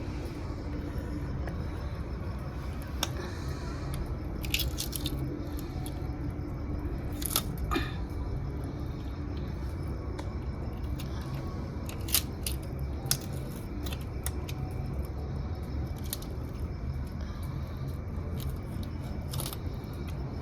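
Rohu fish being cut up in a kitchen, repeated crunchy slicing and chopping strokes at an uneven pace, fairly close, over a constant background noise.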